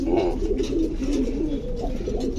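Pigeons coo continuously up close, a low, rolling, throaty warble that barely pauses.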